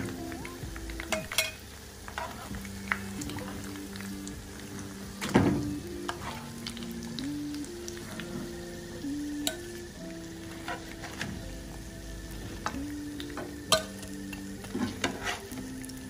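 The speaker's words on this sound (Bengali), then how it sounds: "এভাবে ব্রাউন করে আমি ভেজে নিব।" Fish cutlets frying in a pan, browning with a steady soft sizzle, broken by occasional utensil clinks and scrapes of stirring, close and moderate in level with no voices.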